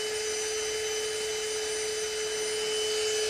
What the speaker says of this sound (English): gotta vacuum that